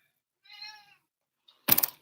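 A vocal cat lets out one clear, drawn-out meow, followed after a short pause by a brief burst of rustling or thumping noise, with no talking.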